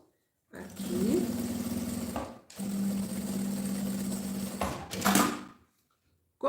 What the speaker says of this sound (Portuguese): Vou rebater a costura